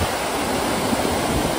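Water pours steadily over a river weir running high, a dense, loud, continuous rushing roar heard close by without any voices.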